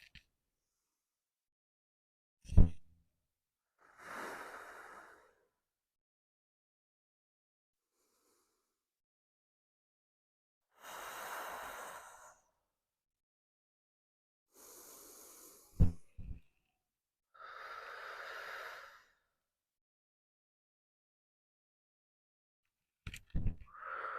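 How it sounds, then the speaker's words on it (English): Slow, deep breaths during a prenatal yoga class for the third trimester: several long, soft breathing phases of about a second each, spaced apart by quiet stretches, with a few sharper sniffs or exhales between them. "Let's breathe here together."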